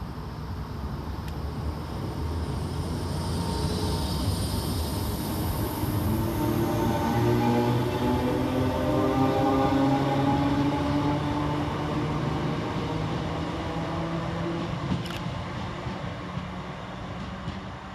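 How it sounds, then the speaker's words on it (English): A Northern class 319 electric train runs through Huyton railway station with a steady rolling rumble and rising motor whine that stays loud and close the whole time, with no voices. "So we'll get started here at Huyton with 319366. Working the 1251 Northern service of Wigan North Western to Liverpool Lime Street."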